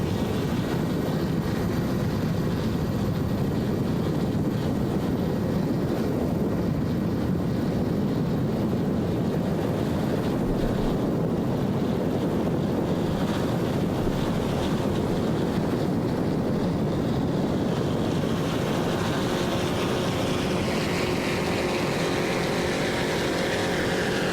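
Outer Limits offshore racing powerboat with Mercury 525 horsepower EFI inboard engines and Mercury number 6 drives, running in a race on Mississippi Sound at Biloxi; a loud, steady, droning engine roar with wind buffeting, sustained without a break.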